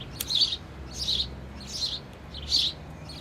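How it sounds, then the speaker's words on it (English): Pet birds chirping, four evenly spaced bright chirp bursts, moderately close over a quiet low background hum. "You can enjoy a few more minutes of relaxation listening to my needy little birds up here."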